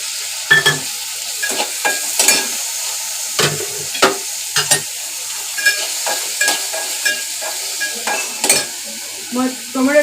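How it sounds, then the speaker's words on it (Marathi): Tomatoes added to browned onions sizzle in a pan while preparing Malvani-style bhindi bhaji, with a steady frying hiss broken by repeated scraping stir strokes and utensil clinks, close and fairly loud. "कांदा भाजून झालेला आहे, त्यात आता टोमॅटो टाकते."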